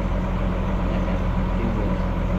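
A farm tractor used for hay baling idles close by, giving a continuous steady low diesel rumble with no talk.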